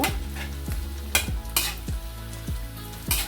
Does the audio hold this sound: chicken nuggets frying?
yes